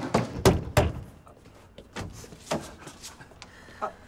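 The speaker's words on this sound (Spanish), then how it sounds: "¿Por qué toca la puerta de esa manera?" Someone pounds hard on a door, two heavy loud thumps followed by several lighter, irregular knocks, with no voices.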